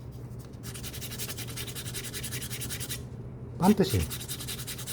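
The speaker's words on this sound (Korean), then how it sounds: "이거 이제 사포로 다듬어 줄 때는" Sandpaper, around 400 grit, rubbing along the edge of a leather bag handle, a steady scratchy back-and-forth stroke that pauses briefly and then resumes, with someone speaking quietly nearby.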